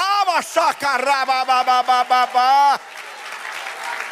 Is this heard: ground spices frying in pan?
no